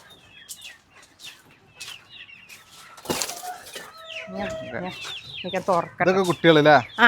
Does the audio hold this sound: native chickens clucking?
yes